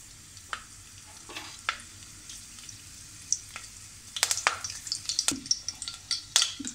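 Curry leaves hitting hot oil give a quiet background hiss broken by sharp spitting crackles, which grow more frequent and louder toward the end, with no voices.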